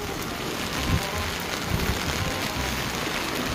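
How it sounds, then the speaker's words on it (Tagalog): Heavy tropical downpour pouring steadily onto surfaces outdoors, a dense loud hiss with a few heavier thuds, continuous throughout with no talking. "Bigla kasi bumuhos ang napakalakas na ulan oh."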